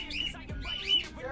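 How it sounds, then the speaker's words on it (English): Pet birds at home squawk and chirp in quick, sharp bursts close by, a few loud calls in rapid succession with a faint low thump between them. "my birds are having an aneurysm"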